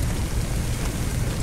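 Water spraying from two fire hoses in the Firefighting Simulator video game, a loud, dense, continuous rushing hiss like heavy rain, steady for the whole short stretch.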